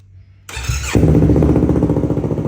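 A 2015 Yamaha R3's starter whirs briefly, then the engine fires and settles into a loud, throbbing idle close by through an aftermarket SC exhaust.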